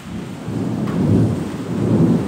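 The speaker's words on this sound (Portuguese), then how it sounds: "E depois começa a chover, tá até trovejando, olha." Loud, deep rumbling thunder rolls in waves over steady rain, swelling and fading twice within a few seconds, close and heavy.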